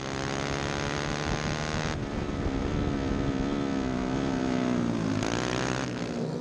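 Racing karts accelerate hard around a track during a 150 Libre class race, a loud continuous buzzing engine drone with shifting pitch that holds steady throughout, a sharp change near the end as another kart passes close.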